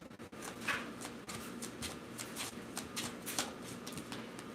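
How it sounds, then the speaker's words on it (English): Tarot cards being shuffled by hand, a dense run of soft riffling and flicking snaps, close but quiet, continuing without pause. "let's get a couple of tarot cards"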